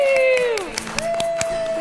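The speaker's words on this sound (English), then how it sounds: "We're so busy clapping that you can't hear what their song was" Studio audience claps for song contest winners on a morning TV show, a burst of scattered hand claps with cheers under sustained sung or voiced tones, fairly close and lively.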